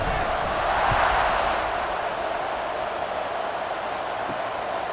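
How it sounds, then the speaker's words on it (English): A stadium crowd in EA Sports College Football 26 buzzes steadily after a touchdown, a dense, continuous roar of many voices holding at an even, loud level throughout without letting up. "this crowd is buzzing after that last score"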